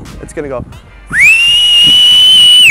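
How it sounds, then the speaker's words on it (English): A thrown football gives a loud, sustained high whistle that rises sharply and then holds steady for over a second, starting just after a short spoken phrase in a windy outdoor setting. "So when I throw this, it's gonna whistle."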